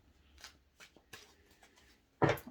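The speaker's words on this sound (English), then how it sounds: "don't know why I always shuffle it. I've already shuffled the deck." A deck of tarot cards is shuffled by hand in a few quick, soft riffling bursts separated by short pauses, ending in a louder final flurry, close and quiet with no talk.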